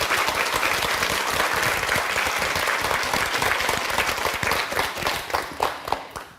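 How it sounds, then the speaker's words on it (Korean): A lecture audience breaks into sustained, dense applause, loud and continuous, slowly thinning toward the end with a few scattered claps. "박수 치셔야죠, 여러분"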